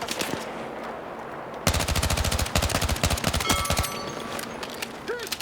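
Rifle gunfire in the video game Battlefield 6, rapid bursts of automatic shots close and loud after a quieter start, with brief pauses between volleys.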